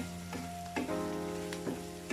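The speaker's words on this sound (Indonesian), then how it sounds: "Kita masukkan daging cacahnya, kemudian kita tumis." Minced meat stir-fried in a pan for sautéed enoki mushrooms, a steady close sizzle with a few brief scraping stirs, no talking.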